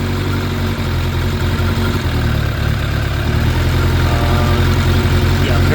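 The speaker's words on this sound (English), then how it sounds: "Idle is stable at so I guess the carburetor is so synced in." A Suzuki GSX 600F Katana motorcycle engine, a 2006 model with freshly synced carburetors, idling nearby in a loud, steady low rumble, with a faint voice briefly under it.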